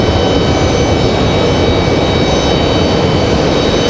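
Delta Boeing 737-900ER jet departing Raleigh-Durham airport, a loud, steady engine roar with broadband rumble and a faint high whine, continuous and close, with no talk over it.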